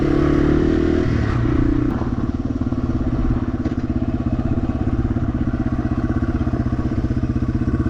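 Yamaha TW200 motorcycle riding along a trail, its single-cylinder engine thumping steadily and loud up close, with clatter and scraping from the rough ground and no talking.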